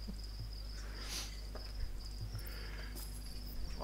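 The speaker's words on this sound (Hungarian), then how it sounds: "A hangos tücsök." A batch of live feeder crickets kept as food for chameleons chirps loudly and continuously, a close, shrill insect trill that dominates with no voices heard.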